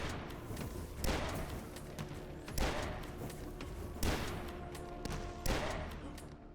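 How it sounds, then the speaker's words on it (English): Hunting rifle in the shooter Dusk, firing five heavy booming shots at a slow steady pace, about every one and a half seconds, each a loud close blast that decays over a rumbling game background. "And finally, the hunting rifle. It's pretty much a long-range super shotgun and it sounds perfect."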